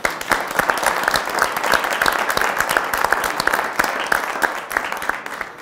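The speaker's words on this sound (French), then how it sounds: "bravo, on vous applaudit" An audience applauds a start-up presenter on a broadcast pitch show, a dense, lively burst of clapping with distinct individual claps, moderately loud and continuous for several seconds without talk.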